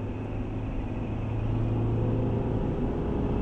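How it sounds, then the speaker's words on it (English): A gasoline car speeding up on a highway, a steady engine and road rumble heard from inside that builds gradually in loudness, with no talking. "Can we take it out on the highway? Let's give it some juice."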